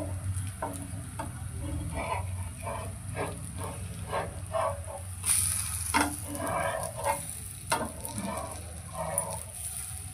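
Rava dosa sizzles on a hot pan, a soft continuous frying hiss with scattered light scrapes and taps of utensils, fairly quiet and close.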